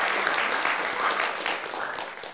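A short burst of audience applause at a talk show, dense clapping from a live crowd held at a steady loud level throughout.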